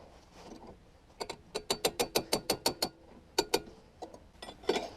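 A wrench ratchets on a bolt of a rotting 1970s Yamaha snowmobile, a close run of evenly spaced clicks followed by a few more irregular strokes over faint background noise.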